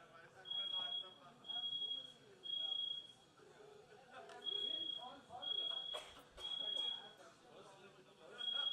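A building fire alarm sounds during a false alarm at an event at IISc, Bengaluru, giving steady evenly spaced beeps that repeat about once a second while people talk over it.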